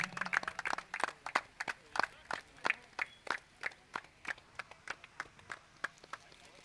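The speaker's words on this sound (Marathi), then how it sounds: "जरा जोरदार टाळ्या होऊन जाऊ दे त्या विनोद सावंत यांच्यासाठी सुद्धा." An audience at a cricket tournament semi-final claps for Vinod Sawant as he receives honours. The applause is a steady, rhythmic run of claps, moderately close, with voices faintly underneath.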